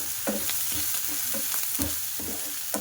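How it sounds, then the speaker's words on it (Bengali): Ginger-garlic paste fries in hot oil while being stirred, a steady close sizzle broken by a rhythmic series of scraping strokes from the spoon, with no one talking. "হাফ চামচ আদা রসুন বাটা দিয়ে দেব, দিয়ে একটু লাল লাল করে ভাজা করে নেব"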